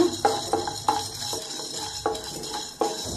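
Fenugreek seeds and black pepper frying together in a pan for tomato rasam, with a quiet sizzle under repeated close scraping and clinking strokes of a spoon against the metal.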